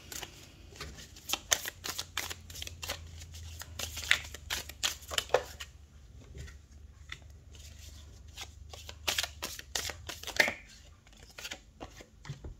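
A tarot deck being shuffled by hand, a rapid sequence of sharp riffling snaps and soft slaps of cards, close and fairly quiet, with a few cards popping out of the deck.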